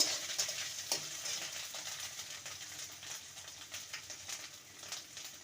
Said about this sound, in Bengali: আদাটাকে ভালো মতন কষিয়ে নেব